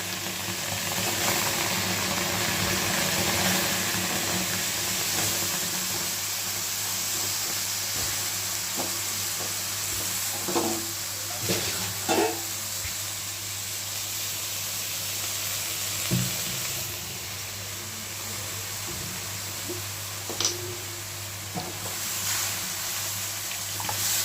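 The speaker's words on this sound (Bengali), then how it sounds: "দেখো আলু আর ওলকপিটা আমি জল দিয়ে সিদ্ধ করে নেব" Kohlrabi and two potatoes simmer in a pot of water, giving a steady hissing, bubbling wash with occasional soft knocks and clinks, with no talking.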